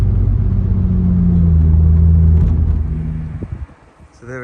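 A 2006 VW Golf GTI idles and rumbles steadily close by as it is parked, its low engine note holding, then fading out near the end.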